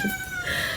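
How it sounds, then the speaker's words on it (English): A house cat gives one short meow, close and fairly loud, indoors, lasting under a second with no talk over it. "Sorry about my cat that you might hear."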